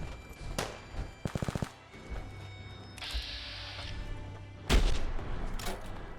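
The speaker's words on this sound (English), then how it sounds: "There's gunfire over here." Bursts of rapid gunfire crack out in the video game Fallout 4, a quick rattling volley followed by sharper blasts, with mechanical clicks and a whirring tone between shots.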